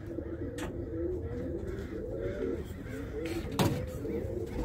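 Birmingham Roller pigeons coo softly in low, rolling murmurs amid a noisy loft, with someone talking over them and a sharp knock partway through.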